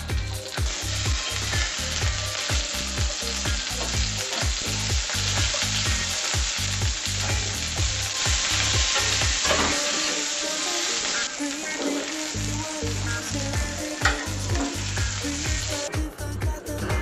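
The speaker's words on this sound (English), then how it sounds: "Now what I do with my onions is I caramelize them a little. So just put them in the frying pan." Onions caramelizing in a frying pan sizzle steadily and loudly throughout, with repeated scraping and stirring strokes over the constant hiss and a brief quieter gap midway.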